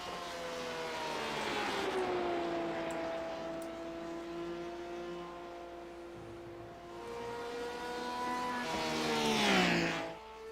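A race car engine in a Le Mans racing video game holds a loud, sustained high-revving drone, its pitch gliding slowly downward, then climbing again and swelling sharply near the end as the car accelerates and passes close.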